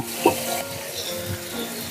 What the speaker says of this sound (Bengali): দেখুন আমার ফুলকপিটা ভাজা হয়ে গেছে